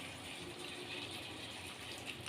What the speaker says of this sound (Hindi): फ्रेंड्स इस कटोरी में हम थोड़ा सा पानी डाल दे रहे हैं